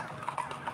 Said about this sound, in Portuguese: Ainda tem cavalo lá atrás pra vir.